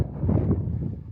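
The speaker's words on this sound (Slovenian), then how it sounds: "Nažalost piha, ko pri norcih ta čez greben" Gusty wind buffets the microphone on an exposed mountain ridge near Kladivo and Veliki vrh in Slovenia, a steady low, rumbling roar with no speech.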